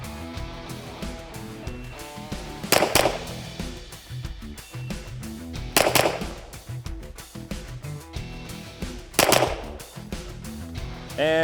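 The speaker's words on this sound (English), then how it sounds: "So now we're gonna go to 2 shots, controlled pair" Three sharp, loud gunshot-like bursts ring out at steady intervals during a pre-match shooting drill, each crack standing alone against quiet background noise, with no talking.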